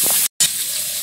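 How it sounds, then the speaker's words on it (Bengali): Dried chillies, black cumin and chopped onion frying in hot oil, giving a steady, close, loud sizzling hiss broken by a brief moment of silence. "শুকনো লঙ্কা, একটু কালো জিরে তেলে, পেঁয়াজ কুচি"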